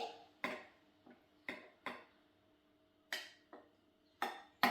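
A spoon taps and scrapes against a bowl as chia pudding is mixed, giving about eight sharp, separate clinks at an irregular pace, close up and fairly quiet, with no talking.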